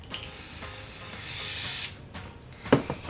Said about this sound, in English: this is the hairspray, so I'm going to spray it on there